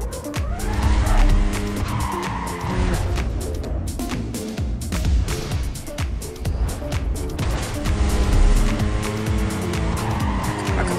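Race car in Need for Speed: Carbon skidding hard through corners, with loud, continuous engine roar and repeated tire squeals that rise and fall across the whole stretch.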